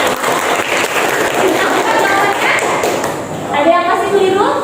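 Students in a classroom give a classmate a round of applause, a dense patter of clapping that holds for several seconds, with voices and light thumps mixed in under it.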